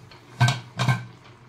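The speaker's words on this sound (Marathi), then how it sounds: "तर त्या स्टँडवर आपण हे कुकरचं भांडं ठेवूयात" A metal pressure cooker pot set onto a stand in a home kitchen gives two quick close clanks about half a second apart, with no talk.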